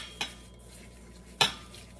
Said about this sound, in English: I have 1 egg yolk, 20 grams of sugar. I'm gonna mix them all together.